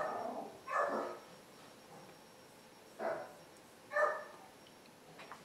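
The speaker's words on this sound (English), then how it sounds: "Do you hear my dog growl?" A dog indoors makes four short, faint growling bursts at irregular intervals, separated by quiet gaps in a calm room.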